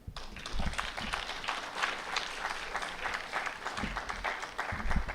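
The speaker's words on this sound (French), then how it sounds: "ça mérite des applaudissements" Applause breaks out in the audience at a speech praising Rwanda: a steady crowd of clapping hands, moderately distant, with a few heavier thumps scattered through it.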